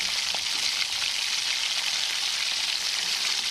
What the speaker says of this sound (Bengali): এবার এতে কিছু পরিমাণ কুমড়ো ভেজে তুলে নেব।